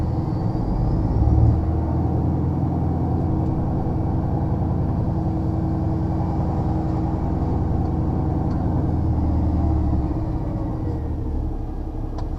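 A truck engine in crawler gear runs at low speed in the UK, giving a steady, heavy low rumble that drones on evenly inside the cab without any talking.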